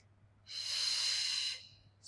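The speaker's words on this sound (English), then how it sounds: "Exhale, lengthen tall, and in breath, exhale, inhale" A single long, airy breath taken close by during a beginner Pilates spine-mobility exercise rises smoothly, holds steady for about a second, then fades, with another breath just starting at the end.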